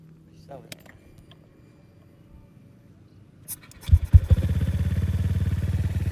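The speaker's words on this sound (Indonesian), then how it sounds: "Boleh dinyalain mas untuk mesinnya?" Modified Honda Vario 150 scooter upgraded to about 200 cc starting up: after quiet moments with faint talk and clicks, the engine cranks and catches, then settles into a loud, steady, throbbing idle close by.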